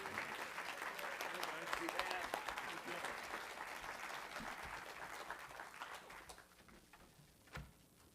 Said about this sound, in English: Let's give the Kalama Brothers one more huge applause.